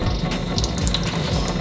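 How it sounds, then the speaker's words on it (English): Cold water sprays steadily in a light shower over an LED lightbar, a continuous broadband hiss and patter with no pauses, close and moderately loud. "we'll just do a light shower first, just to test it"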